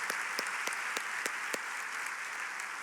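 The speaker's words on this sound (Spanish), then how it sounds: "démosle un fuerte aplauso de bienvenida al que vive y reina por los siglos de los siglos" A congregation gives a welcoming round of applause at a church service, a continuous, even patter of many hands with a few sharper claps standing out, moderately distant and steady throughout.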